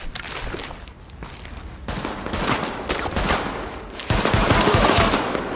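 Sustained gunfire in Tom Clancy's The Division: dense, continuous bursts of automatic shots with sharp cracks, growing louder toward the end, alone without talk.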